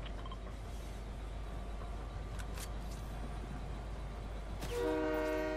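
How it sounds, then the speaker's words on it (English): A moving train in the Fortnite video game rumbles steadily and loudly with a continuous low drone, and a horn-like tone rings out near the end. "Train keeps moving."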